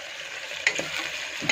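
Curry leaves frying in hot oil for a taro root (chamadumpa) curry: a brief, bright crackling sizzle with a couple of sharp pops, close and fairly loud.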